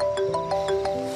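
A phone rings with a short electronic tone pattern, repeated chirping pulses over a steady melodic tone, heard briefly and close.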